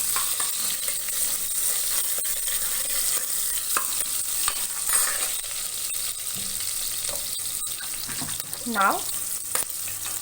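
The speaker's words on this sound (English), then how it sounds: "Let us fry for a while till the onion softens." Chopped onion frying in a pan for a black chickpea curry, a steady bright sizzle running throughout with occasional scrapes of a spoon stirring; a brief voice speaks near the end.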